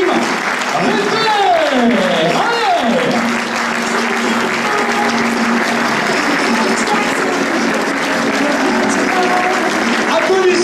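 Applause from an audience at a ceremony honouring France's best pastry apprentice of 2013, steady clapping that fills the whole stretch while an announcer's voice sounds over it at the start.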